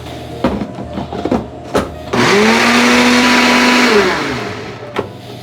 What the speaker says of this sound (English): This is pretty much why I brought the Ninja, because this smoothie attachment is perfect for making a quick sauce like this.